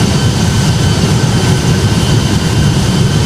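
A simulated Boeing 757 in Project Flight rolls for takeoff on a flight from Larnaca to Paphos, its jet engines producing a loud, continuous low roar with a broad hiss that holds steady.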